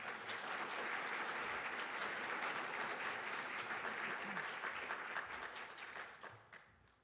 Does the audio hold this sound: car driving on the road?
no